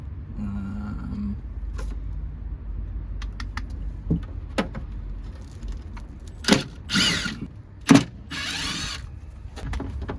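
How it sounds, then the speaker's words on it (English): Scattered clicks and scraping metallic bursts from a tool working at stubborn rusted 10mm screws on an E36 car, with a few louder grinding spurts toward the end over a low background hum. "just going to take these 10mm screws out"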